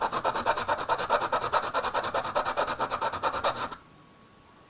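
Sandpaper rubbing over a hand-carved wooden spoon in quick, steady back-and-forth strokes, a close, even rasping rhythm that keeps going for several seconds and then breaks off into near silence.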